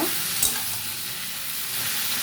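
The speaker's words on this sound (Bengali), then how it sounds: "আগে ভালো করে ভেজে নেবো আনাজগুলো" Vegetables for a catla fish head ghonto fry in a hot pan, a steady close sizzle with a brief scrape of stirring near the start.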